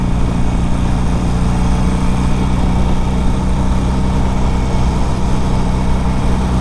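A 2006 Harley Davidson 883 Sportster motorcycle engine rumbles steadily while riding, a loud continuous low drone with wind noise and no pauses.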